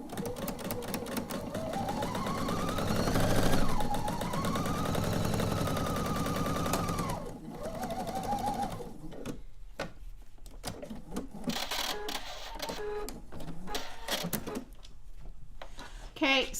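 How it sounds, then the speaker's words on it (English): A sewing machine stitches quilt pieces along a marked line with a fast, steady mechanical whir, then stops and restarts in shorter bursts near the end. A voice talks over the running machine. "So we're going to sew on the one line. I can flip it around and sew back up."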